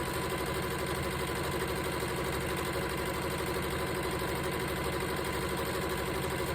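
A sewing machine runs without pause, stitching fabric for an easy nine-patch quilt block with a steady, even mechanical whir and hum, close by, with no voices.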